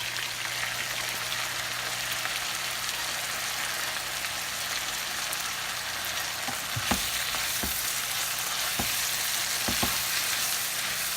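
Brisket frying in a pan gives a steady, dense sizzle throughout, with a few soft clinks and stirring knocks toward the end.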